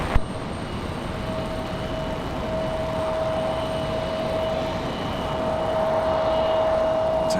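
A Cessna Citation business jet at Raleigh-Durham airport, a continuous broadband engine roar with a steady whining tone, fairly loud and slowly swelling as it approaches.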